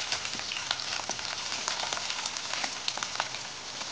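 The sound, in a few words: onions frying in oil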